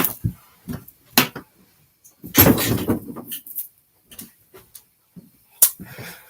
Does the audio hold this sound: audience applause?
no